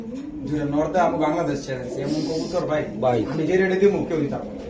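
Racing pigeons from a club loft coo softly in low, rounded tones, mostly buried beneath continuous nearby conversation from people speaking throughout.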